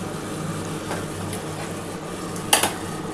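Small live katla fish slipping into hot oil for a Bengali tel jhal, giving a steady, even sizzle with a sharp metallic clink of a pan or utensil near the end.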